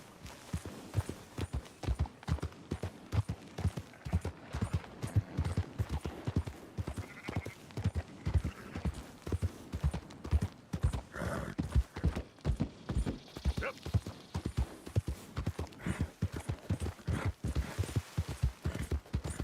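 A horse in Red Dead Redemption 2 clip-clops along at a steady trot, hoofbeats loud, close and continuous for the whole stretch with no break.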